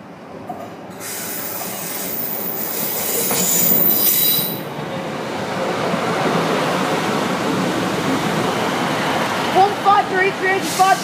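Class 153 diesel railcar 153385 at Lincoln Central station, its wheels and carriages rumbling steadily with a rising roar, high squeals and clanks toward the end, with people talking faintly in the background.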